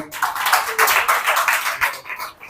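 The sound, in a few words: congregation clapping hands in praise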